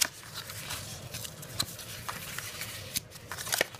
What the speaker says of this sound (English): now you need to crease all of your fold lines